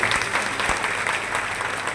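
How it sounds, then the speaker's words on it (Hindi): Sustained applause from a large crowd at a national community convention in Agra, continuous dense clapping at steady loudness with no talk. "तालियों की गड़गड़ाहट होनी चाहिए।"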